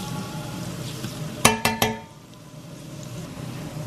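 Garlic frying in a pan gives a steady low sizzle, broken near the middle by three quick, sharp metallic clinks of a utensil against the pan before the hiss settles back.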